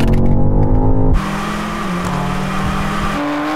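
A BMW XM Label Red and a BMW M4 CSL, both Manhart tuned, launching in a drag race: loud engine roar with a sudden shift in pitch, then a rising, strained drone as the tires spin, heard without speech.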